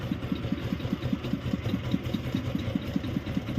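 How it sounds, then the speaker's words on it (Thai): A 4x4 farm jeep engine runs at a steady idle, its low, even chugging pulses repeating rapidly and close by, with no voices over it. "อันนี้เครื่องร้องนะครับ"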